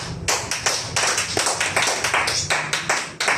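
A church congregation applauds at a service, a dense burst of sharp, close hand claps in quick irregular rhythm lasting a few seconds with no speech over it.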